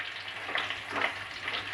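Potatoes sizzle and crackle in hot oil in a pan, with soft bursts of stirring noise rising and falling.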